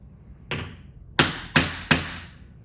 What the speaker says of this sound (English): I'm using the smallest nail set that I can and not driving too forcefully with my hammer